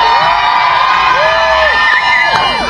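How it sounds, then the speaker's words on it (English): A big outdoor crowd with many children cheers, whoops and shouts continuously at a Christmas lights switch-on event in Newport, loud and close throughout. "Who's excited by the lights going on? Give us a cheer!"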